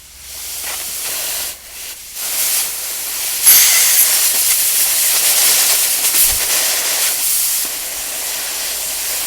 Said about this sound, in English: Try and force as much air down there as you possibly can.